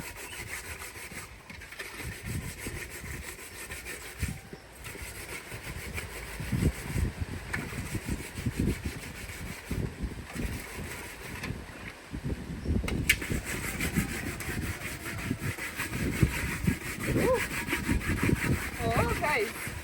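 Fine sand scrubbed against a cooking pot outdoors in a village, making repeated rough gritty rasping strokes in uneven bursts that grow louder and denser in the second half, with faint background noise.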